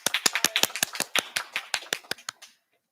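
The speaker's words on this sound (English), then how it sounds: "Thank you for the applause" Scattered applause at a school board public session: about a dozen sharp, close claps at an even pace from a small group, thinning out and stopping after two and a half seconds.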